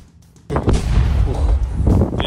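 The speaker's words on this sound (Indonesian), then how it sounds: "hujan ledakan juga terdengar ketika mereka sedang menyusun strategi di parit-parit" Heavy shelling explosions around Bakhmut in wartime Ukraine, a sudden loud onset followed by sustained rumbling blasts and crackling impacts, close and dense, continuing without a break.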